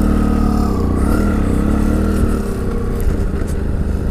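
A motorcycle built for riding around the world pulls away in first gear, a loud, close engine drone with steady low rumble that eases slightly partway through.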